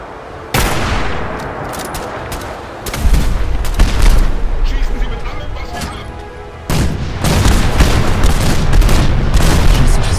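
Gunfire in Fallout 4: loud, heavy shots and booming bursts crowd the clip, coming in dense sustained volleys with brief lulls, partly under a talking voice.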